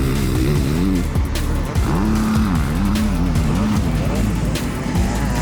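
Enduro motorcycles roaring at full throttle on a 3.3-kilometer cross test with jumps and straights, loud engine notes rising and falling continuously under a narrator's voice.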